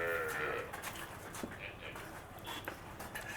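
Cows waiting to be milked on a farm low out with a drawn-out moo at the start, followed by quieter animal shuffling and faint background voices.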